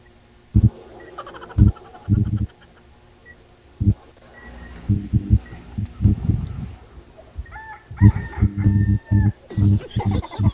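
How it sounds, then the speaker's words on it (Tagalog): A rooster crows in a few loud, nearby bursts toward the end, following scattered thumps and clucking noises, with no talking. "Tumilaok nga yung manok."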